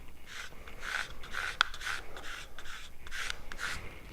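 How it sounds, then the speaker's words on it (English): A squeegee rubs a small sticker flat onto a Jeep, making a series of about seven short, rasping strokes in a steady back-and-forth rhythm, close and fairly quiet with one sharp tick partway through. "We're just going to squeegee this sucker out, get it on there flat."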